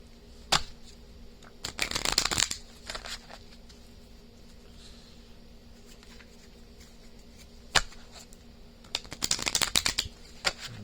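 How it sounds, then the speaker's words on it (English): Tarot cards being shuffled in two bursts of rapid riffling clicks, close and crisp, with a single sharp card snap between them and quiet pauses in between. "Shuffle it one more time, and we will pour out your first card."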